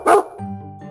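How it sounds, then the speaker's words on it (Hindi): A dog gives one sharp, loud bark at the start, followed by a lower, softer, tonal whine-like bark that trails off in the same second. "कुत्ता बोलता है भौं भौं।"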